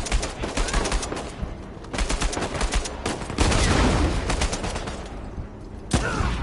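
Heavy gunfire in the Uncharted 4 multiplayer battle Thief's End, with a sniper rifle among bursts of rapid, loud shots that keep rolling through the whole stretch and a sharp new crack near the end.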